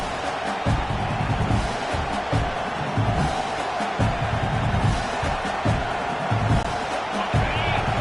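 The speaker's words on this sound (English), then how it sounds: "Listen to the crowd energy here in the early going." A dense stadium crowd at an Ohio State versus Michigan college football game roars continuously, a broad wash of cheering and shouting with thumps and whoops, and a voice talks beneath the noise.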